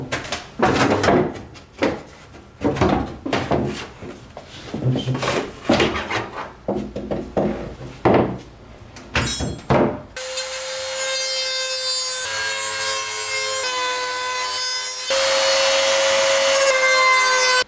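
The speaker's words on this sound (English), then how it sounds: "trying to sand these things down and get them flush with the body" Aftermarket body kit parts on a JZX100 are sanded by hand to sit flush with the car body, a run of loud, rhythmic rasping strokes that gives way to steady music partway through.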